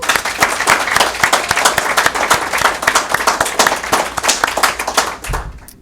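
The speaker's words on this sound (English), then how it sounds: "you owe yourself a big round of applause" A loud, close round of rhythmic clapping and applause from a crowd at a graduation ceremony, sustained and steady for several seconds before tapering off at the end.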